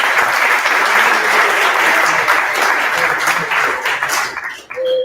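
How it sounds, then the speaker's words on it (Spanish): Audience at a live debate event claps enthusiastically in a thick, continuous burst of applause that thins and fades out at the close. "así que un aplauso también."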